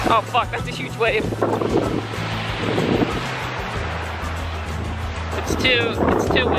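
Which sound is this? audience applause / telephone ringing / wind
wind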